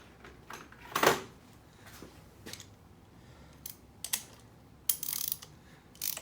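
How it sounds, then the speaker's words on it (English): Socket ratchet worked on a Honda SL70K1 motorcycle, giving a few short, scattered clicking bursts with gaps between them, the loudest near the start and a rapid buzzing run of clicks near the end, all fairly close and quiet. "Ratchet, ratchet, ratchet."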